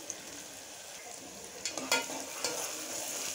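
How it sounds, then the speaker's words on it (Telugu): Onion pieces frying in hot oil for a mutton and raw mango curry, a steady crackling sizzle with a few louder spits and stirring scrapes partway through, close and fairly quiet with no talking. "నూనె వేడైన తర్వాత ఉల్లిపాయ ముక్క వేసుకుని వేయించుకోవాలి."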